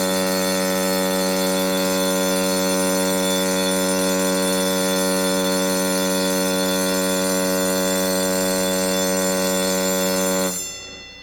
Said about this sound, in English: The general alarm for fire and emergency sounds like this.